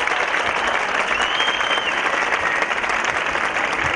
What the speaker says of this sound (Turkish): öğrencilerine kocaman bir alkış